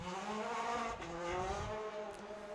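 David Quantock's Force Motorsport-built Skoda AP4 rally car competing at the Ashley Forest Rallysprint 2023 in New Zealand, its engine note rising and shifting through gears with loud, close revving and a sharp break partway through.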